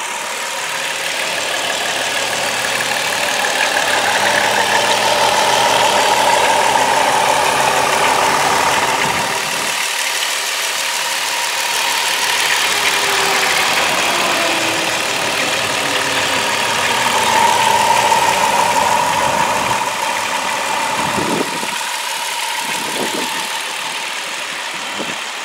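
A 2005 Chrysler Town & Country minivan's 3.3 liter V6 idles steadily with an even, close mechanical hum and a faint whine, with no talk over it.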